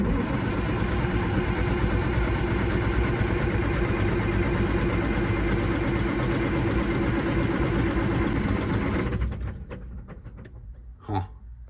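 A Caterpillar 3406E diesel engine cranks over in a loud, dense, continuous churn for about nine seconds, then cuts off, leaving faint clatter behind.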